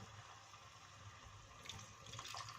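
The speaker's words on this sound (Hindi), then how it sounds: "और पानी बिल्कुल हमने ऐसे डालना है" Water trickling from a tap or poured into a pan of bhuni moong dal being cooked dhaba style, a soft steady splashing that swells slightly toward the end, with no talking.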